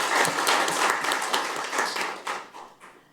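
An audience at a policy forum on medical device distribution applauds to welcome a lawmaker, a dense burst of clapping that thins out and fades toward the end.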